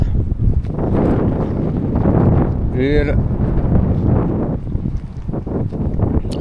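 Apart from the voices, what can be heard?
strong wind in Turkey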